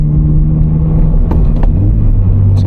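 From inside a Toyota FRS with a Berk muffler delete, a deep, loud exhaust rumble drones steadily while the car drives onto an on-ramp, the pitch climbing slightly near the end as it accelerates.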